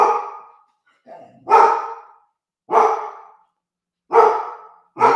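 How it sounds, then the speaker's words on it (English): A dog barks indoors in a house, four loud, sharp barks spaced about a second apart, close to the microphone and with no talking over them. "What you barking at?"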